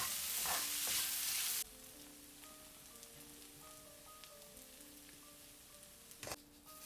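Leftover dumpling dough fries with spring onion in a pan, opening with a loud burst of sizzling that drops to a softer, steady crackle with scattered clicks and a brief clatter near the end, with no talk.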